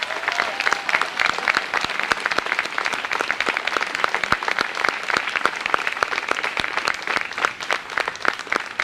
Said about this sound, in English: Let's give one more big round of applause to the award winners.